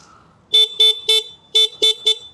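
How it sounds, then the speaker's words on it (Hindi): Honda Shine 100 DX motorcycle horn sounding six short, loud honks in an uneven rhythm, each a steady bright electric tone, close by with no talking. "बाय द वे मैं हॉर्न सुना दूँ।"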